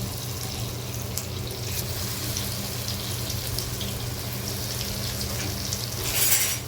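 Kothimbir vadi, Marathi coriander fritters, frying in a shallow layer of hot oil, giving a steady, even sizzle and crackle close by with no voices.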